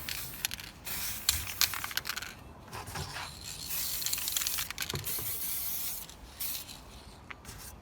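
Rust-Oleum metallic bright gold spray paint applied in light coats to a Jakks Pacific C-3PO figure: a continuous hissing aerosol spray with short bursts and pauses, close and fairly quiet, with no voices.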